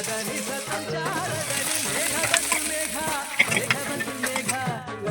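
Ginger and spices frying in a pan for a country chicken curry, a steady sizzle with stirring under a voice talking throughout.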